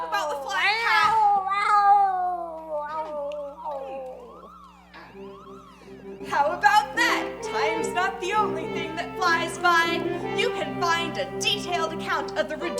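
Yuri the flying space cat meows in a long wavering, siren-like cry at a Christmas live show in Atlanta, then a busier stretch of overlapping meows and voices follows, loud and close.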